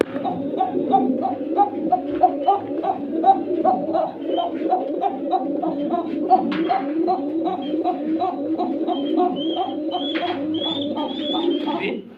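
A female pigeon coos in a continuous series of soft, throaty calls, close and steady, with a few faint chirps in the background.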